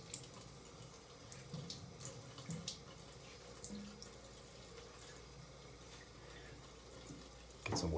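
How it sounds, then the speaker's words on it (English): Tap water running into a sink while preparing to shave, a faint, steady splashing stream with small knocks and clinks, ending in a louder thump. "Get some water on the face."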